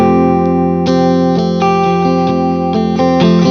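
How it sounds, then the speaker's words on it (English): Clean electric guitar through a Friedman amp with a touch of Flint reverb, a series of plucked chords and single notes ringing out with a soft lingering tail, played alone with no talking. "Here's with a little bit of Flint reverb."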